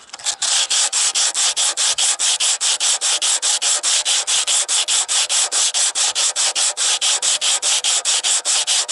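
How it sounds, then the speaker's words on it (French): A car bumper is scraped by hand to remove rust and paint, making loud, rhythmic rasping strokes at an even, fast pace. The strokes repeat dozens of times, close up and without talk. "maintenant il faut gratter aussi le pare-choc. Hein, il y a de la rouille"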